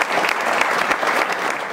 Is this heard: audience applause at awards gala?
yes